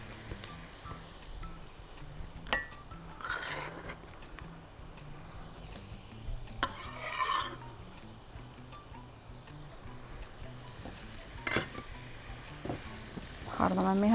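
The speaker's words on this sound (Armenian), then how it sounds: "Ավելացնում եմ կազարը։" Carrots fry in a pan with onion for a chicken and lentil pilaf, making a soft, steady sizzle with scattered light clicks and a louder stir near the end, fairly quiet and without speech.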